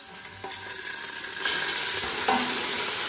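Chicken frying in hot, browned oil in a pan at a ranch dinner, a steady close crackling sizzle with stirring scrapes, swelling louder partway through as the pieces settle into the fat.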